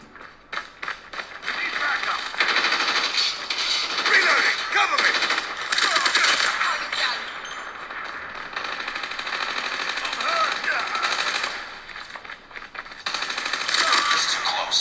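Rapid bursts of video game gunfire and explosions play through the two bottom-firing speakers of a Samsung Galaxy Z Fold 3, tinny and dense, with game voices mixed in.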